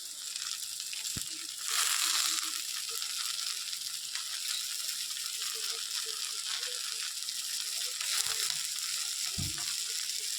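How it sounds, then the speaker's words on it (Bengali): Ivy gourd leaves and stems fry with vegetables in a pan, giving a steady close sizzle and hiss with a few dull knocks and scrapes of stirring scattered through. "এবার ভালো করে ভেজে নেব। তেলাকুচির পাতাগুলো নরম হয়ে গেলে কিন্তু ভাজা কমপ্লিট হয়ে যাবে।"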